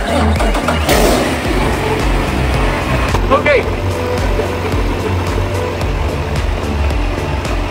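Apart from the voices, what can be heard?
Isuzu 6WG1T diesel excavator engine running on test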